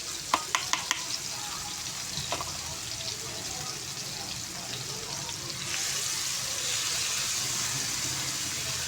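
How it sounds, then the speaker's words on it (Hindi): Garlic sizzles in hot ghee or oil, a steady frying hiss after a few sharp taps of a utensil, growing slightly louder partway through. "जब हमने गरम घी या ऑयल के अंदर चटनी को डाला है लहसुन को, क्योंकि लहसुन जो है फ्राई होगा"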